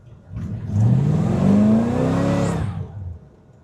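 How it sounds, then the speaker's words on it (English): A 1963 Corvette accelerates hard from a standstill with a small burnout, its engine note climbing loud and close for about two seconds, with tire noise, before easing off. "So no brake, just acceleration, and what a neat little small burnout."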